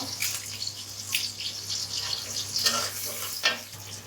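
Chopped onion, green chili and bay leaf frying in oil for khichuri, a soft uneven sizzle with intermittent stirring scrapes, fairly quiet.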